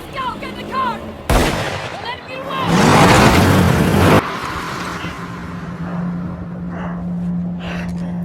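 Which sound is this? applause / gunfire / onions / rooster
gunfire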